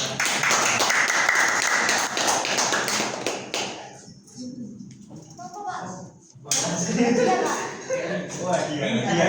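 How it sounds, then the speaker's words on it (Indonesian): An audience claps during an Islamic jurisprudence lesson on water for ritual purification. The dense applause runs for several seconds, dips briefly, then swells again, with voices mixed in. "kasih tepuk tangan bagi dia."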